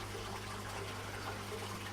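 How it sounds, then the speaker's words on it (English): Water flowing back into an aquaponics system from the emergency backup during a power cut, a steady low gushing rush with a constant hum underneath, continuous and close with no talk. "water returning here"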